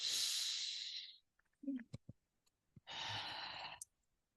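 Slow deep breathing close to a microphone: a long airy inhale, a quiet pause with small mouth clicks, then a breathy exhale, heard alone in a quiet room.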